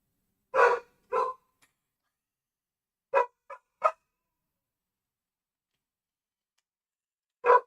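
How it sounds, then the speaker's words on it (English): A dog barks in a room during a game coding livestream, six or so short, sharp barks spread across several seconds with silence between them, moderately loud and alone. "I'm sorry about my dog."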